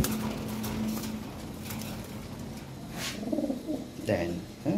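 Lahore pigeons, kept for sale, coo in a few low rolling bursts, strongest toward the end, over a steady background hum with some nearby rustling.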